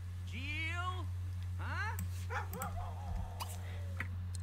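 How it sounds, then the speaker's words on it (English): A dog in The Sims 3 gives a few whiny yips and bark-like yelps, rising and falling in pitch, heard over a constant low hum with some faint clatter between calls. "I just heard a dog."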